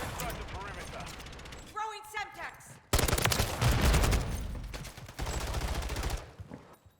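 Bursts of Kastov 74U rifle fire in Call of Duty MW3, a mechanical reload clatter, then sustained loud automatic shots in stretches with pauses, under someone talking.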